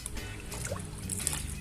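Water from a watering can trickles and splashes onto grapevine plants in a garden, a steady soft pour with a faint gurgle throughout.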